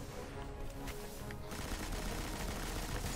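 Rapid machine gun fire in the Destiny shooter game rattles as a dense, continuous burst that carries through the whole moment, loud and close.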